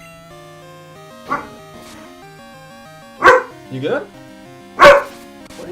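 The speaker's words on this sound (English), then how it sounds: "Dog's joining the stream." A dog barks and yips three times in short, loud, close bursts against a backdrop of tinny retro game music from Pokémon Gold/Silver/Crystal, with someone briefly speaking between the barks.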